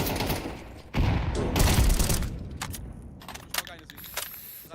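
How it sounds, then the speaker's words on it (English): A flashbang grenade goes off in Counter-Strike gameplay: a sudden loud burst with a ringing, sustained wash, followed by further sharp bangs and clatter, with game noise and intermittent voices underneath. "Deploying flashbang."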